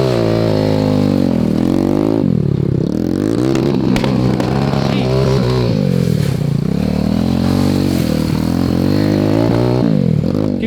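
A 190cc shifter kart engine screams around a race track. It is loud and close, with continuous high revving that rises and drops through repeated gear changes and throttle lifts, with no voices.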